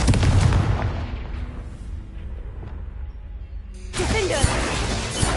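A blasting spell goes off in a Harry Potter video game, a heavy booming explosion with rumbling debris that fades, then a second sharp burst of crackling, crashing noise near the end.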